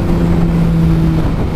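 A Suzuki GSX-R1000R motorcycle engine hums loudly and steadily close by, with a slight rise in revs as cruise control disengages, then settles, no voices present.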